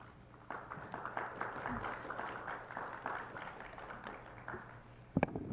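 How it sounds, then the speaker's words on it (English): Applause fills a public meeting chamber at a state board of education session: a fairly faint, steady patter of many hands clapping for about four and a half seconds, ending with a couple of sharper taps. "We don't often get applause in the chamber, but I like it."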